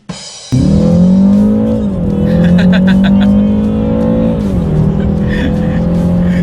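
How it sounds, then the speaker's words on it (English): A 2019 BMW 330i xDrive sedan in sport mode pulling hard on a back road, heard from inside as a loud, rising engine drone that drops briefly at each gear shift and climbs again, with a voice over it. "let's do a quick little acceleration on these back roads, see how quickly we can get the new 2019 330i sedan here, X-Drive, in sport mode here, up to speed"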